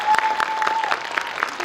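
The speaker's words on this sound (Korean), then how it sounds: "박수 한번 주세요." Audience at a Korean film Q&A screening for the movie Pamyo breaks into brisk applause, dense clapping from a full theater that holds steady for the short moment.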